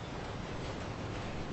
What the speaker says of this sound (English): Yep, I'm under the train.